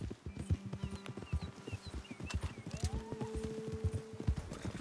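Steady clip-clop of horse hooves on ground in Red Dead Redemption 2, close and rhythmic, with a brief horse whinny partway through and faint birdsong behind.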